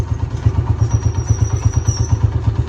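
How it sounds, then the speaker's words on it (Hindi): A battered, rickety motorcycle idles close by with a loud, steady low-pitched thumping pulse and a faint rattle, with no voices. "बाइक पे देखो टूटी फूटी बाइक पे जा रहा है"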